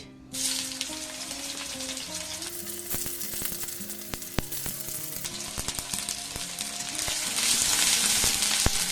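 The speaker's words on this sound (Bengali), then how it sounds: "তেলের মধ্যে দিয়ে দেবো একটু পেঁয়াজ" Onion sizzles steadily in hot oil in a wok as a Bathua saag dish is cooked, a dense even crackle with occasional sharper pops and a faint background hum, growing slightly louder toward the end.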